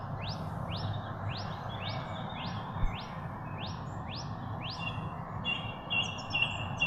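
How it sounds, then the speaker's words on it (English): A loud bird calls in woods, repeating about eight sharp, evenly spaced chirps before breaking into a few quicker notes, clear over a low, steady background hiss. "That's a loud bird."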